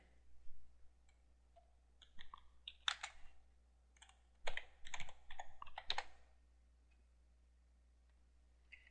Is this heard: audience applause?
no